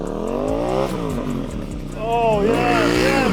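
A KTM 790 Duke or Kawasaki Ninja ZX-6R motorcycle engine revs hard and loud, its pitch sweeping up and down in repeated throttle blips, with excited voices shouting over it.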